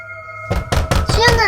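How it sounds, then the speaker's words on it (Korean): Someone knocks urgently on a house door: four or five hard, close knocks in a quick, uneven burst after a low steady hum. "나는 급히 문을 두드렸다."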